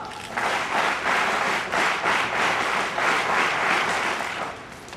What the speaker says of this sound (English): Clap, go!